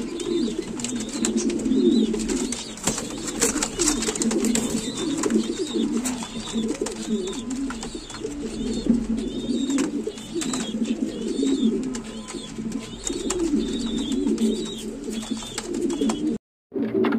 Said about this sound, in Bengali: দেখতে পাচ্ছেন নটটা কি সুন্দর ডাকতেছে